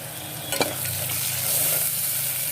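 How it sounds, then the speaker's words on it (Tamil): Whole spices and a biryani leaf sautéing in a pot for Dindigul Thalappakatti-style seeraga samba mutton biryani, a steady close sizzle with a few sharp stirring scrapes near the start and no voices. "நல்லா வதக்கி விடணும்."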